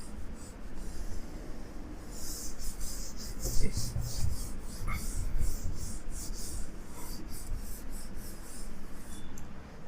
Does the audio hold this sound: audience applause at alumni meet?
no